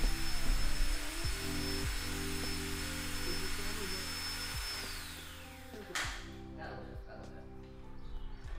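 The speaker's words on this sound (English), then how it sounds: "Can you not hear the drill over me?" A power drill whines continuously at high pitch, then winds down and stops; mechanical clunks and a voice talking sit underneath.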